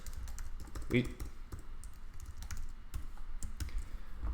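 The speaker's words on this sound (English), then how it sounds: "enough typing there for now" Steady typing on a computer keyboard during a Clojure coding session, with irregular clicks and key taps continuing throughout at close range, mixed with light background noise.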